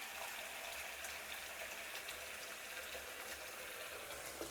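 Steady water from a faucet pouring into a sink, a constant broadband rush that holds at the same level throughout with no voices over it.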